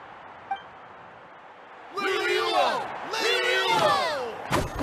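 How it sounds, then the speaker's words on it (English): A video game crowd roars and cheers in energetic bursts with overlapping shouts, loud and close, ending with a sharp impact. "Hear that? Exhilarating cheers of the crowd."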